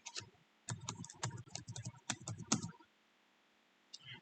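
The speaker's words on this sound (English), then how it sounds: "I'm going to type in patterns." Keyboard typing in a design program, heard as a quick run of clustered clicks and taps over about two seconds, fairly close and moderately loud, with a single brief click afterward.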